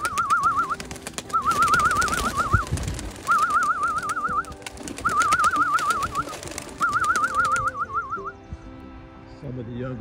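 Pigeons during a training flight release near the National Cemetery in Dayton, Ohio, giving repeated warbling coos in regular bursts, fairly close, over a background of people talking and general outdoor noise.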